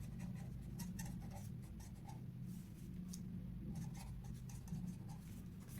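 Pen or marker writing a maths definition by hand on a surface during a lesson, a steady soft scratching that runs continuously and close up for several seconds against a low hum, with no talking.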